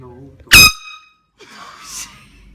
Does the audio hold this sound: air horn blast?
yes